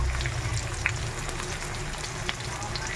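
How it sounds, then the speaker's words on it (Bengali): Onions sizzle in a frying pan, a steady close crackling hiss with a few small pops and no talking. "পেঁয়াজ দিয়ে দিলাম, এবার পেঁয়াজটা একটু লাল লাল হয়ে আসলে"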